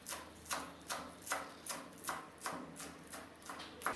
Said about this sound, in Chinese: 把小葱切末